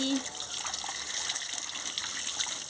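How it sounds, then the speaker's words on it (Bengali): Tap water runs steadily over freshly cut potatoes and vegetables being rinsed for a green jackfruit curry, a constant, fairly loud rushing gush across the whole stretch. "কাটা হয়ে গেছে আমি ধুয়ে নিচ্ছি"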